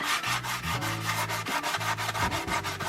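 A surface is scrubbed hard by hand with Koh cleaner, producing a steady run of close, rasping back-and-forth strokes in an even rhythm, with no talking.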